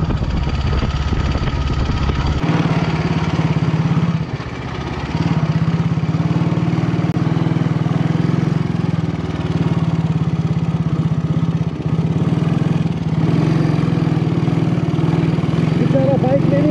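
A motorcycle engine on a rough mountain ride through Manang, Nepal, drones steadily and loudly throughout, with a low continuous rumble under people talking.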